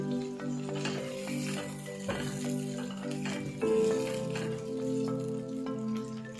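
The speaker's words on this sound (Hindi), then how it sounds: "हमेशा दही डालते वक्त आग को कम कर दें और इसको चलाते जाएं" Yogurt curry for dhokli salan simmers and sizzles in a pot over low heat while a spoon keeps stirring it, giving a steady bubbling hiss with soft scraping and occasional clinks.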